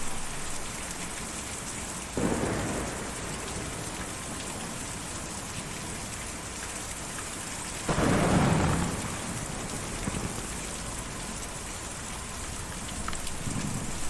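Steady rain falls throughout in the video game Kentucky Route Zero, with low rolls of thunder swelling twice, a shorter one early and a louder, longer one near the middle, with no voices heard.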